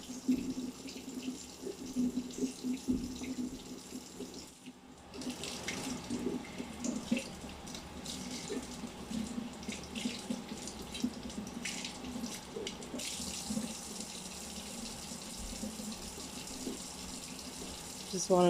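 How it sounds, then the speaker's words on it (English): A tap runs steadily into a sink while a new coffee thermos gets rinsed, a continuous splashing flow with brief changes as the water hits the vessel, quiet and close, with soft handling noises and a short pause midway. "Just wanted to give that a really good rinse."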